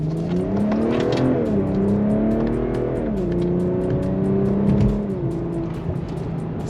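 A BMW M340i G20 with a B58 engine at wide open throttle in sport mode, revs climbing loudly through several gear changes with brief dips between them, heard strongly from inside the car.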